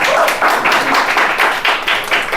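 A small group claps together in an evenly paced rhythm to welcome someone at a church worship gathering, loud and close, each beat landing in unison.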